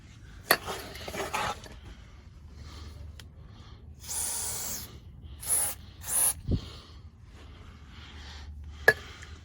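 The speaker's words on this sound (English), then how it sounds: "We'll spray a bunch in there and on the wheels" Several short hissing bursts of aerosol lubricant sprayed onto an RV trailer slide's wheels and track, close by, with a few metallic clicks and clanks between them.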